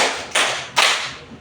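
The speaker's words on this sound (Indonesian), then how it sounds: "Tepuk satu, tepuk dua, tepuk tiga," Schoolchildren in a classroom clapping together in time with a counting chant, two sharp unison claps a short beat apart, each ringing briefly in the room, fairly loud with no voices over them.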